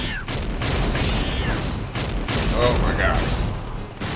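Boss missiles blast in the Wild 9 video game finale, a run of dense rumbling booms and bursts that fill the clip, with a player's startled voice talking over them.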